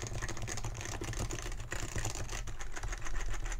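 Rapid, dense typing spam on a Topre keyboard with its LED switched off, a continuous flurry of close soft keystrokes with no pauses and no voices.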